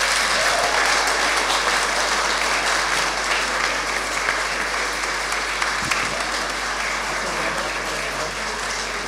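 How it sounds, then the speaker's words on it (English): An audience at a business talk claps hard in thanks: dense, loud, sustained applause that fills the whole stretch steadily with no letup and no voices over it. "So I want you guys to clap hard."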